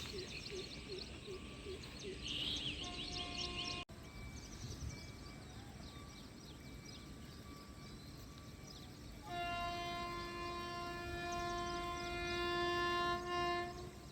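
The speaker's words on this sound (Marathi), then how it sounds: "आत्ता ट्रेनचा हॉर्नचा आवाज ऐकू यायला लागला आहे आणि ट्रेनसुद्धा आलेली आहे" A train rumbles past with steady rolling noise, then a loud sustained horn blast with rich harmonic tones sounds in the later part; birds chirp faintly early on.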